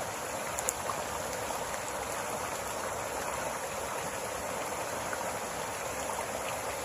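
A flooded creek rushes steadily past, a soft, even wash of flowing water heard from a short distance with no talking, the hiss holding constant throughout.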